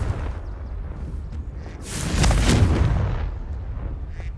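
The Confringo blasting spell goes off in the Hogwarts Legacy video game as a deep, rumbling explosion that swells midway and then fades over a noisy background, with no speech.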